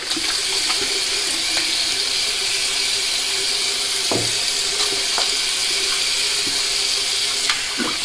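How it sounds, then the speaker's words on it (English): Tap water runs steadily from a faucet into a sink while a man wets his face before shaving with a safety razor, a continuous close hiss broken by a few faint clicks and splashes. "I'm going to wet my face down, wash it with this soap"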